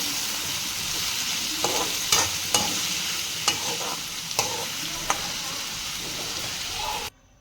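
Tomatoes with turmeric and salt sizzle steadily in a pan for tomato chitranna, with a spatula scraping and stirring every second or so, close and alone without speech.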